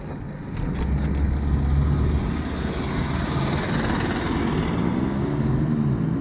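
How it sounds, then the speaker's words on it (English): A car with an unhealthy-sounding engine passes by on a street with a low, rough rumble that swells and lingers, heard from a recumbent bike ride with wind noise and no talking. "That car don't sound healthy at all"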